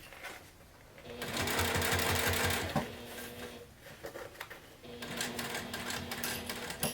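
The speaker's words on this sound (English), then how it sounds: "continue sewing with the seam allowance" A sewing machine stitches a seam on a bag, its rapid mechanical whirr running in steady bursts with a short pause midway, close and fairly loud with no talking.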